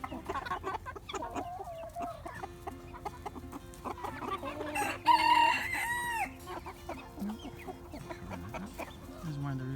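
Chickens and roosters on a farm, some of them young chicks, cluck and chirp continuously, with a louder burst of crowing and squawking about halfway through and a low background hum throughout.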